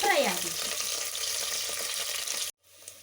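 Curry leaves hit hot oil in a pan for a Kannada-style potato and chickpea sambar, a bright crackling sizzle that runs loud for a few seconds and then cuts off abruptly.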